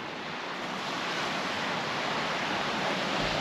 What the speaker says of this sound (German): Wir sind direkt am Meer.